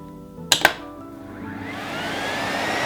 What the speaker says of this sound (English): I can adjust the amount of suck that comes from the vacuum cleaner.